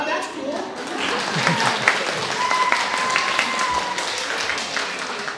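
An audience claps through a live stage performance of How the Grinch Stole Christmas, a steady broadband patter of many hands with a few whoops and murmurs mixed in, moderately loud and continuous throughout.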